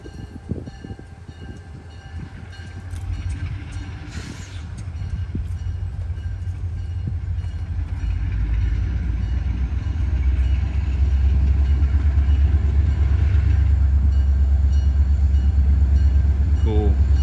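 A GE B23-7 diesel locomotive on the Norfolk & Western line rumbles past, its engine drone and rolling wheels building steadily louder and nearer over time.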